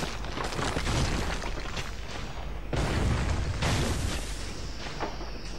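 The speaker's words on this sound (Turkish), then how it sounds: "Ha bu top atıyor işte bu dalga." Cannon fire in Trine 2 sounds as two heavy booms about three seconds apart, each a dense burst with a rumbling tail, moderately loud against a noisy game backdrop.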